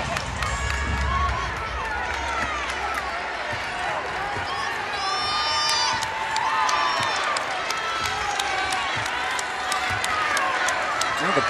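A pro-Wolfpack crowd at an NC State women's basketball game against Virginia Tech cheers and roars steadily throughout an arena, with squeaking sneakers and a commentator talking over it.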